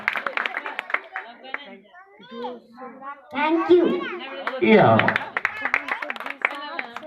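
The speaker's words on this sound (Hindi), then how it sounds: "जोरदार ताली दिल से" Children's voices chatter and call out near a microphone at a school Independence Day program, while a burst of audience clapping rises through the middle and then fades back under the talk.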